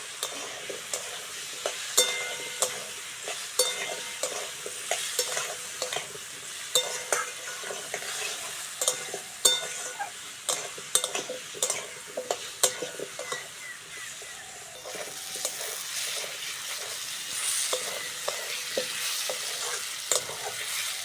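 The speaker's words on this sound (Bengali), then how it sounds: "পেঁয়াজ আলুটা ভালো করে ভেজে নিয়েছি" Potato and onion fry in a pan, a steady close sizzle broken by repeated stir scrapes and clinks throughout, with no voice over it.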